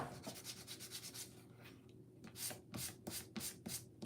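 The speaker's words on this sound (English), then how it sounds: "we are going to sand and wax this little candy cane" Sandpaper rubs back and forth on a small wooden candy cane in close, steady strokes, with a regular rhythmic scrape that grows more distinct toward the end, with no talking.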